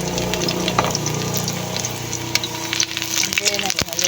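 Garlic frying in hot oil, a steady sizzle under a faint low hum, with a few sharp pops and clinks toward the end.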